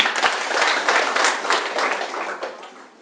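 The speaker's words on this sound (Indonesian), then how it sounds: "Ya, tepuk tangan dong kalau itu benar." An audience at an Indonesian charity presentation breaks into a brief burst of applause, a dense wash of clapping that holds for a few seconds and then fades.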